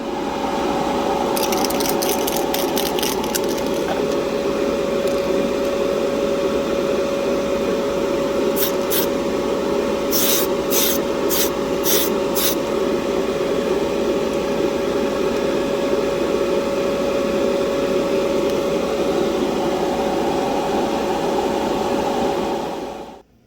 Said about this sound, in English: After spraying the wheels with the matte flat clear